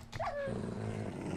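A dog growls and snarls in a Minecraft game, a short rough growl with a brief yelp near the start over steady background game noise.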